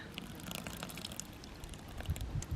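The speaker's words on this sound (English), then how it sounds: "Go and put the water in." Water poured from a watering can onto plants at home, a soft continuous trickle and splash with low gurgling that swells near the end, close and fairly quiet, no talking.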